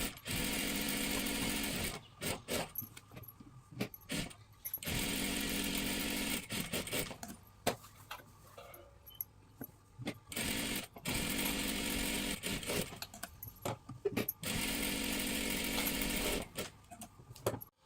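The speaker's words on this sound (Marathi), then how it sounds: "इथे आपल्या दोन्ही सुद्धा बाजू डबल शिलाई मारून झालेल्या आहेत." A sewing machine double-stitches the seams of a salwar, running loud and close in long bursts broken by short pauses, with no talk.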